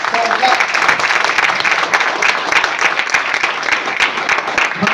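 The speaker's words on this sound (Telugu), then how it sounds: "ఒక్కసారి క్లాప్స్ ఇవ్వచ్చు" Audience clapping at an indoor business presentation, a continuous close burst of many hands applauding at once, with some voices mixed in under it.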